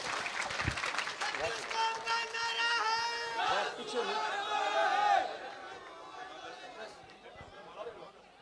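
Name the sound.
crowd applauding at a farmers' rally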